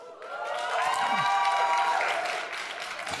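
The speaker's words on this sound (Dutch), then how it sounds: "dit applaus was natuurlijk voor alle vier" Applause from an audience at an Amsterdam municipal election debate swells and holds, a dense crowd clapping with a faint tone over it, then starts to thin near the end.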